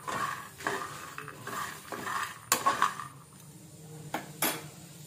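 Cumin and garlic frying over medium flame in a kadai while being stirred give soft sizzling under repeated scrapes and clinks of a metal spoon against the pan.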